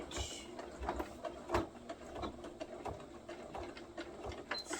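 A sewing machine back stitches on a neck snood, giving short, uneven mechanical whirs and clicks at close range. It is fairly quiet, and no one speaks.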